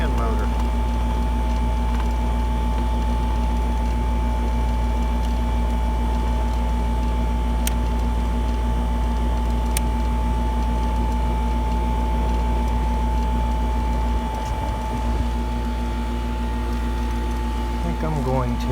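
The fan motor of a 1988 ICP air conditioning unit with wiring faults runs in a steady, loud electrical hum, its drone unbroken with a few faint clicks and rattles from close by.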